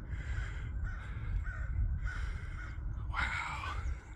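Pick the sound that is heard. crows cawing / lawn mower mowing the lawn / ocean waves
crows cawing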